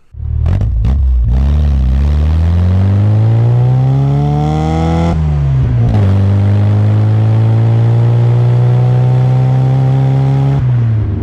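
A classic Mini's small engine revs loud and close at full throttle, its pitch climbing in a long steady sweep and then holding a high, buzzing drone after a brief gear change.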